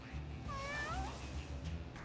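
Cartoon cat meow from the roguelike video game Mewgenics, a short rising and falling mewing call heard over steady game music and background sound, with no voices.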